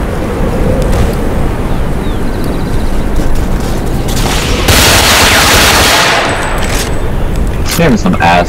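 Sustained, loud gunfire in the video game Ghost Recon Phantoms, a dense rattle of automatic shots layered with heavy booms and a swelling roar near the middle.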